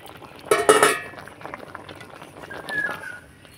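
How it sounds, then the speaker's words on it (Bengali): Water drains from a pot of boiled jackfruit and potatoes in a brief, loud splashing gush, then a softer trickle and faint kitchen clatter nearby. "জলটা এইভাবে করে ঝরে নেব।"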